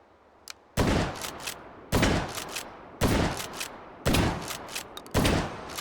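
Marshall Ultra Short pump-action shotgun, a 1998 Italian design, firing in a video game: five loud booming blasts about a second apart, each with a short ringing tail.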